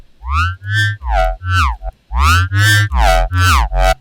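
Synthesized wub bass with distortion pulses in eight separate throbbing notes, each wobbling and sweeping in tone, loud and alone with a short gap midway.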